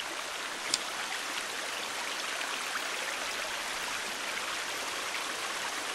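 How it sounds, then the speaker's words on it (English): Continuous trickling and splashing of water flowing out of rock in a forest, a steady rushing flow with a faint drip or two. "Is that water flowing out of the rock?"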